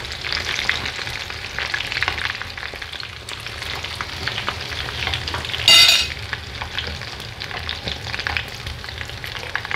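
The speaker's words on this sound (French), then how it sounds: "Là, il faut bien laisser faire dorer les nems pour que le poulet ça cuit." Homemade chicken spring rolls (nems) fry in hot oil, a dense, constant sizzle and crackle that holds at the same level, with a short sharper burst of spitting midway and no voices.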